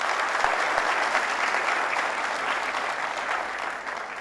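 Steady, dense audience applause at a stage play in a theatre, continuous clapping from a large crowd, loud and even throughout with no voices over it.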